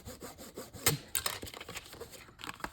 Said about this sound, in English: let me just burnish here